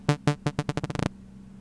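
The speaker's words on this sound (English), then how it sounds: "If I were to play this on the keyboard, it sounds like this." Omnisphere 2 synth preset with a complex envelope played on a keyboard: a run of bright pitched notes that start spaced apart and quicken into a rapid stutter, then cut off abruptly, leaving faint low hum.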